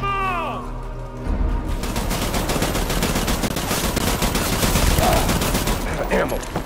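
Rapid sustained machine-gun fire rattles loudly in Death Stranding, starting after a brief moment of other sound and continuing in dense bursts for several seconds with scattered impacts.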